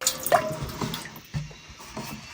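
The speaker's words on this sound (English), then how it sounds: "I got water coming from the faucet." Water from a gravity-fed tank runs out of a faucet in a remote Alaskan dry cabin, a thin trickle with irregular drips and splashes close by, low and uneven.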